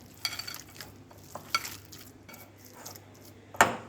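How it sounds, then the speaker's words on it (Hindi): Chicken kebab mixture with onion and cardamom paste is mashed and mixed by hand in a bowl, giving soft wet squelches and scattered clicks, with a sharp utensil clink near the end. "इसको प्याज को भी इसमें डाल दिया। इसको अच्छे से मसलना है, मिलाना है कुछ देर तक।"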